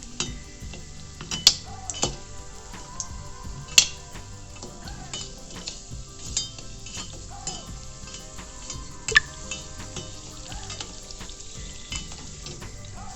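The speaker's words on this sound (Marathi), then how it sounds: "गॅस बारीक ठेवायचे हिंग फुटतो" A 20-gram lump of asafoetida (hing) roasts in a pan over low gas, crackling quietly with sporadic sharp pops and faint utensil clinks.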